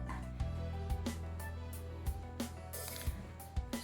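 A sewing machine stitches down the base of an asymmetric slit gown's skirt, giving a close, steady low motor hum broken by regular mechanical clicks and taps.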